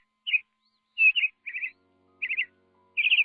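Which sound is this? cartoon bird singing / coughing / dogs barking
cartoon bird singing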